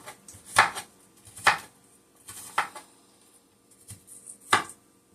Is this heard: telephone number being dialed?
no